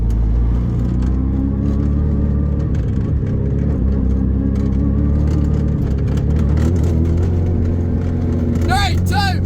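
A Toyota Corolla fitted with a Hayabusa engine accelerating up through the gears ahead of a drag race, a steady loud engine drone heard from inside the car, with speech over it and a brief squealing chirp near the end.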